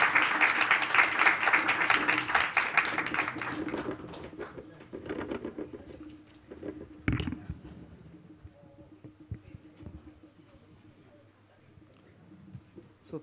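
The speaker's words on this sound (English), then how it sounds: "I want a big round of applause in welcoming Chairman EPIDA" Audience applause welcoming a chairman at a conference on alcoholic beverage exports, loud dense clapping for about four seconds that thins into scattered claps, shuffling and faint room noise.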